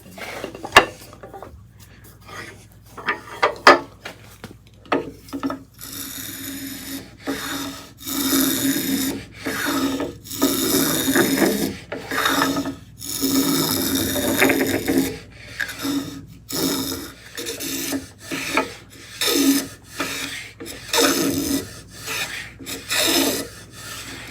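A Stanley hand plane chamfers the edge of a wooden board in repeated rasping strokes, each a scraping shave about a second long separated by short pauses, close and fairly loud throughout.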